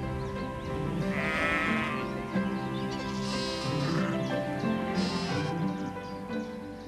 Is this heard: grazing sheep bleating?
yes